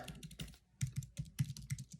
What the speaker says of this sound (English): And then I just start typing.